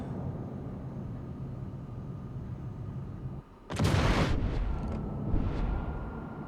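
A heavy blast from a tank gun in a tank video game, loud and booming, breaks through steady background rumble and trails off into lingering echo, with a fainter follow-up report.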